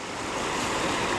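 Creek water running steadily over sandstone bedrock at Clear Creek, a close, continuous broadband rush and wash with no voices, heard during outdoor gold prospecting.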